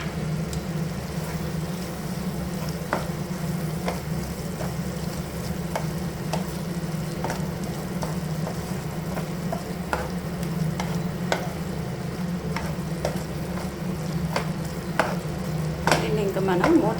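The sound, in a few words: stirring prawns frying in a pan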